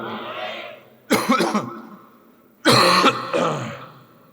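Two bursts of harsh coughing and throat clearing from a preacher with a cold during a sermon, close and loud, separated by a quieter stretch with a faint murmur of background sound.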